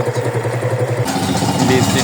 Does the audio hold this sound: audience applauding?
no